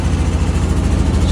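A 2009 Honda Big Red utility vehicle engine running steadily at idle after starting, a continuous low rumbling drone with even vibration, close and fairly loud with no talk.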